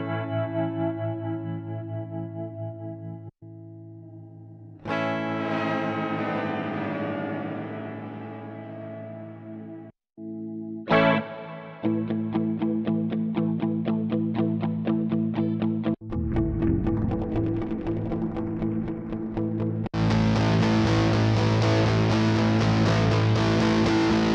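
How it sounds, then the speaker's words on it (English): A looping electric guitar phrase plays through an Empress Effects ZOIA multi-effects pedal, with shifting effects, sustained distorted and modulated tones and abrupt changes between sections. "Have a listen while I tweak a guitar loop live on the ZOIA"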